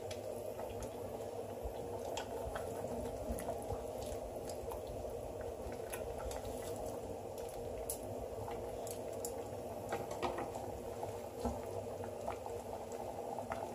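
Vegetable broth with spinach boils in an uncovered pot, giving a steady, continuous bubbling and simmering with small wet pops throughout. No one speaks.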